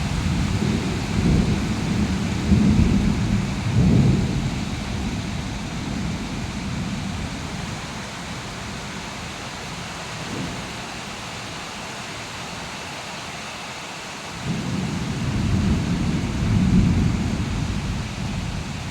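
A heavy monsoon downpour pours down steadily in a dense, roaring wash, with deep rumbles of thunder swelling near the start and again toward the end; no voices are heard.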